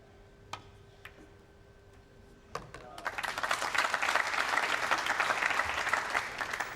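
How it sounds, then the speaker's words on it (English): A crowd at the 2003 World Pool Championship final bursts into applause after a thin-cut pool shot, preceded by a few sharp ball clicks, then sustained clapping that swells and holds. "The crowd reacting to that shot."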